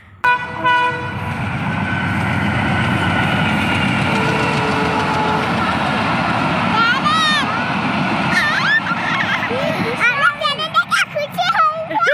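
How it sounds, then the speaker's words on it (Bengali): A train approaches with a loud, building rumble and clatter of wagons, with horn blasts sounding near the end while people talk nearby. "এখন আমাদের ট্রেন আসছে"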